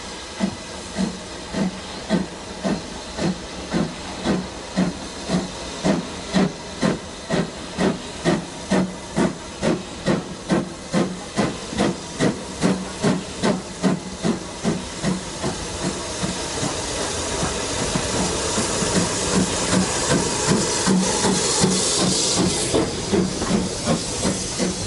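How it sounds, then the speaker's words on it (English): Steam locomotives 78018 and 43106 double-head a train, sending out a rapid, steady rhythm of exhaust beats with a continuous hiss that builds over time as the engines work harder. "our last train of the day arrived, pulled by 78018 and 43106"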